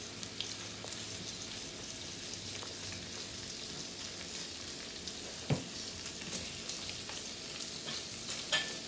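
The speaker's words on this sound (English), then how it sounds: "we are going to put these sausages in a pan, and we're just going to let them brown on both sides for about 10 minutes" Cut pieces of spicy smoked sausage browning in a pan for gumbo, giving a steady close sizzle and frying hiss with a few faint clicks and stirring knocks, no voices.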